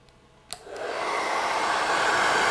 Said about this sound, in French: On mettra aussi le sèche-cheveux à bloc directement.